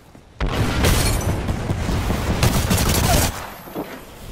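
A grenade explodes in the Apex Legends video game with a sudden loud boom. Rattling gunfire and crackling blast noise follow for about three seconds before fading into quieter background game sounds.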